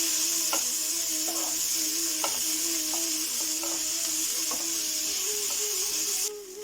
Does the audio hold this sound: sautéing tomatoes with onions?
yes